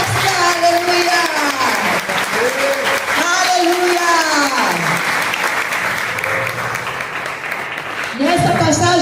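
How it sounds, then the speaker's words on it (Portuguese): Worshippers in a church service clap steadily during a communion gathering, the sustained crowd applause running throughout while voices call out and sing over it. "Aplauda ao Senhor e diga: Jesus, Jesus é a resposta."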